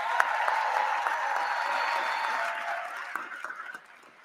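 Grammy Awards audience applause for a performer and a band, a broad sustained round of clapping that fades out near the end, leaving a few scattered claps.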